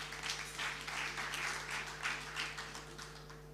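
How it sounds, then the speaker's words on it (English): An audience at a panel discussion applauds the panelists, producing a dense, sustained wash of clapping that holds steady for a few seconds. "One more round of applause for my panelists, for Flora, Winnie, Pamela, and Mama Mwaura."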